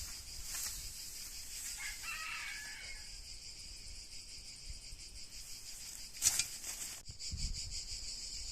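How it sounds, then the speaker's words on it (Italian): A rooster crows on a rural farm, a bright piercing call near the start followed by a later sharp burst, with chirping insects and faint clucking in a quiet outdoor background. "Il gallo canta."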